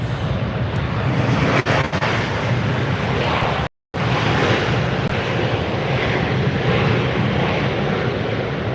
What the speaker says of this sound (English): There's a landing for you. Delta coming in.